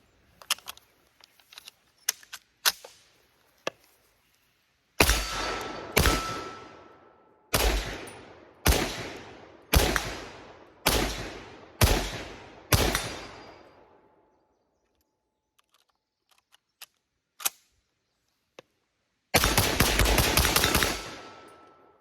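M1 rifle, an older wood-and-steel gun, fired in a series of sharp single shots with short gaps, ending in a louder rapid burst, plus faint clicks and handling noises between shots.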